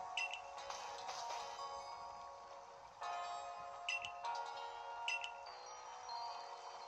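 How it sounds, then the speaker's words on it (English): An in-game phone in Pokemon Legends Arceus beeps, giving several short repeated electronic tones over a steady background of game music, with no talking. "Our phone is beeping."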